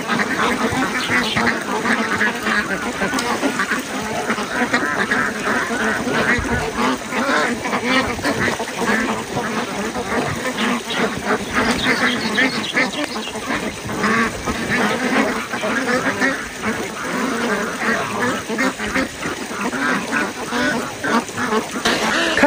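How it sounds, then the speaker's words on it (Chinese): A flock of farm ducks quacks constantly while feeding, close and loud, their rough overlapping calls forming an unbroken, busy chorus that goes on for a long stretch. "看见这个鸭子没？"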